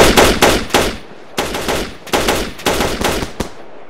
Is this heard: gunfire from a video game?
yes